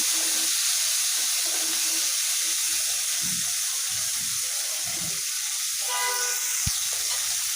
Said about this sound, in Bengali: এখন আমি সে একই কড়াইয়ের মধ্যে ঢেঁড়সটাও ভেজে নেব